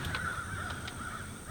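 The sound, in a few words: crows cawing over a food plot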